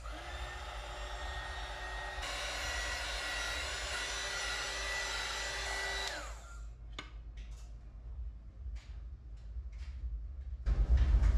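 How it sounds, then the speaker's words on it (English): A hair dryer blows steadily for several seconds, changing pitch once, then switches off, leaving light handling noises and clicks. "now we're supposed to use a hair dryer."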